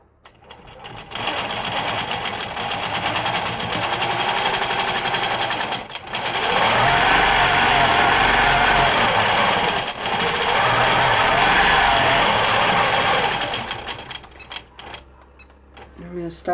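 A longarm quilting machine set to cruise mode stitches free-motion feathers on a quilt, giving a steady, loud, close mechanical whir that runs for most of the stretch, with a brief break near the middle and a wind-down at the end.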